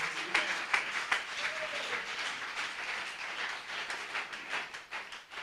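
A church convention congregation applauding, a dense, steady wash of many hands clapping at moderate loudness that holds throughout and fades slightly toward the end.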